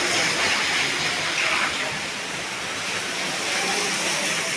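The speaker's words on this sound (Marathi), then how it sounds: "जर पाऊस बघा जोरदार पडतोय." Heavy rain pouring in Ratnagiri, a loud, dense and unbroken hiss close by, with faint background activity beneath the downpour.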